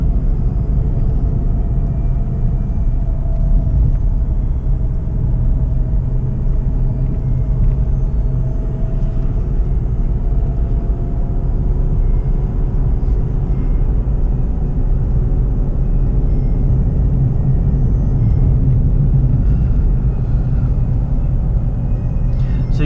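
A car driving along the road to class, a steady low engine and tyre rumble filling the whole stretch, constant and close, with occasional talking over it.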